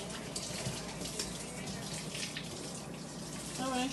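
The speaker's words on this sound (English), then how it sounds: "Let me rinse this off." Tap water runs steadily into a kitchen sink as food is rinsed in a strainer, a close, continuous hissing gush with faint background voices.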